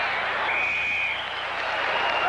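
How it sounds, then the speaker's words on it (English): Stadium crowd applauding the Chicago Bears during a 1981 NFL game against the San Francisco 49ers, a steady, broad wash of clapping and cheering that holds at an even level throughout. "even this crowd is applauding the Chicago Bears"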